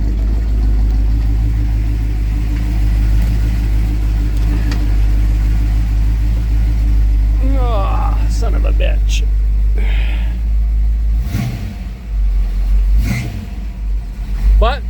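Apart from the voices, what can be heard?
car V8 engine idling and revving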